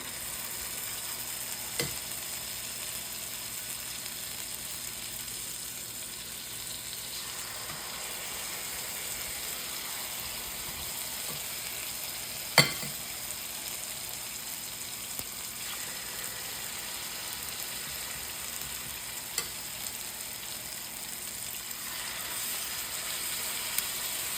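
Steady, quiet sizzling of chicken frying in a pan, a continuous hiss with a few soft pops and clicks scattered throughout.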